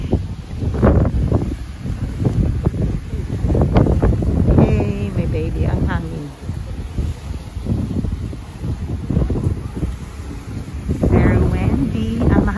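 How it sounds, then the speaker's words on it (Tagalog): Steady wind buffeting an outdoor microphone at Nonhoi Park in Toyohashi, Japan, rumbling and gusting throughout, with people talking over it. "Hangin ngayon sa labas."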